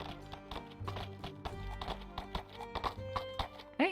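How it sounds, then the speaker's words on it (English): Horses clip-clop in a steady rhythmic trot and a whinny rises at the end in a medieval VR role-play game, fairly close and clear with no talk over it. "I hear horses."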